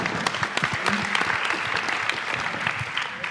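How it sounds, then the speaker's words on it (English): Conference audience applauds at an Alzheimer's research event, a dense patter of individual claps close and distinct, steady for several seconds with no talking. "So I'd just like to have an applause for you folks getting rid of that problem."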